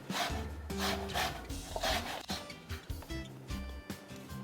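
A sharp citrus zester blade scrapes across fruit peel in repeated close rasping strokes, the rhythmic rubbing fading and becoming more scattered toward the end.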